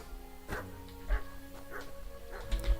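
Mutt the dog in Kingdom Come Deliverance 2 gives a series of short barks and yips, about four spaced bursts over a few seconds, moderately close, with game ambience and music underneath.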